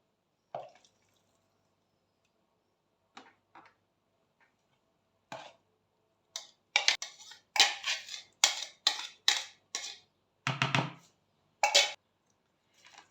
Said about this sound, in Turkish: şimdi robottan geçirmiş olduğum çileğimi kabımın içine alıyorum